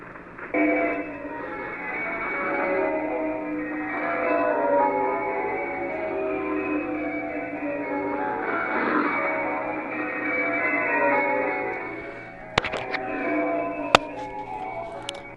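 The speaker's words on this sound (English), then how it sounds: "This is the bell one. This one I like. This is what they sign on with the BBC nowadays" The BBC shortwave radio bell interval signal plays a steady, tonal chiming sequence of bells through band-limited radio audio for about twelve seconds, ending with a few sharp clicks.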